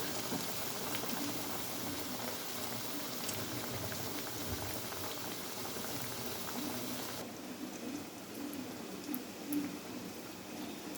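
Cassava vada sizzling as it fries in hot oil, a dense, steady crackling hiss that stays loud and close throughout, easing slightly toward the end, with no talking.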